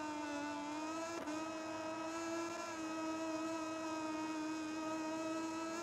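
A Moto2 racing motorcycle engine from a video game at the Red Bull Ring, a steady high-pitched whine held at near-constant revs with one brief dip, loud and continuous throughout.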